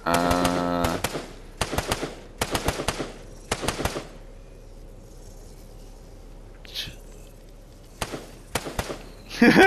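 Gunfire in the Fortnite video game comes in several short, sharp bursts of rapid shots, loud and close, spaced out by a few seconds of quiet, with a brief voice near the end.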